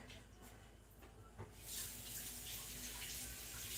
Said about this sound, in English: We rinse them real quick.